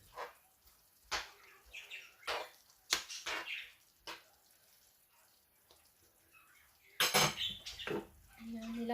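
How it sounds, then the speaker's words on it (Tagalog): Buttered garlic prawns with tomato sauce being stirred in a pan, with repeated sharp metal utensil scrapes and clanks against the pan, irregular and close, plus a brief busier stretch of clatter later on. "Stir lang po natin."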